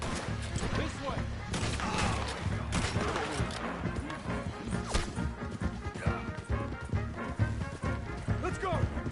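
Gunfire in Red Dead Redemption 2 story mode cracks out repeatedly in a dense, chaotic exchange, with sharp close shots, hoofbeats and clatter mixed under shouting voices throughout.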